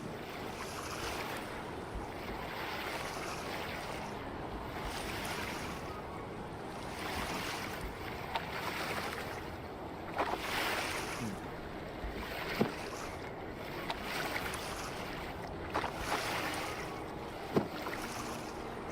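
A sailboat glides over open water in the Make Sail video game, with a steady wash of waves and wind rushing continuously and a few faint knocks, and no voices.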